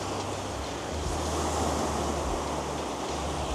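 Sea waves roll onto the shore in a continuous, moderately loud wash of surf, with some wind buffeting the microphone and no voices.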